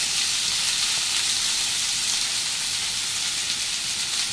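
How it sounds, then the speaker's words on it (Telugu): Chopped onions and grated green chillies frying in a pan, a steady close hiss and sizzle with a constant crackling texture and no talk over it. "ఈ ఉల్లిపాయ మనకి చక్కగా ఎర్రగా అయితే వేగాలి"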